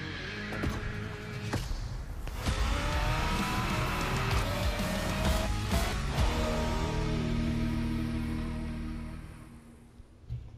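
A Ford Mustang racing in The Crew Motorfest, engine revving loud and close with gear shifts, rising whine and tire squeal, holding steady before easing off near the end.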